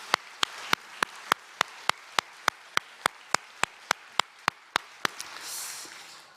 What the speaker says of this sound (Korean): 하나님께 감사와 영광의 박수 올려드리길